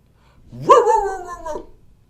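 A single drawn-out dog bark, close and fairly loud, rising into a tonal yelp that trails off over about a second with no talk around it.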